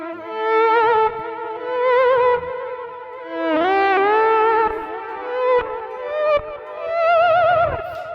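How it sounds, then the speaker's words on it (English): Looped notes played through the ARGate plugin on iPad or Mac swell in softly like a bowed violin, layered with delay and a little reverb, so each tone rises gently and rings on in echoing sustained waves with no talk. "Of course, I've got a delay on that, a little bit of reverb."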